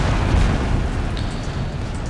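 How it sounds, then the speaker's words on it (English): A deep, rumbling boom of cannon fire in the video game Empire: Total War rolls on continuously, dense and loud, with no talking. "And we'll get my cannons firing here."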